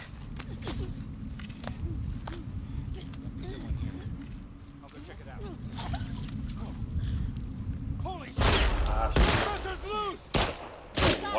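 Sharp bursts of gunfire from The Last of Us Part 2, played on PS5, crack in a rapid cluster near the end after scattered shots, over a low rumbling wind-like bed, with someone talking throughout.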